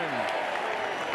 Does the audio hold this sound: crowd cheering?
yes